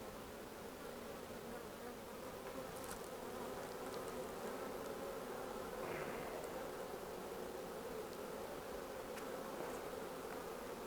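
Countless honeybees hum in a thick, unbroken drone nearby during a hive inspection, steady in loudness from start to finish.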